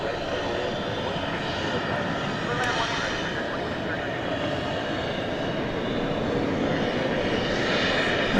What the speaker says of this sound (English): This is a Dash 8 Dreamliner from Philadelphia.